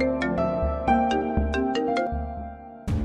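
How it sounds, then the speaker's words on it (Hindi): Mobile phone ringing with an incoming call, a bright repeating electronic ringtone melody of quick tonal notes played loud and close, cut off just before the end. "अरे नायल भाई की कॉल है, पिक तो करो।"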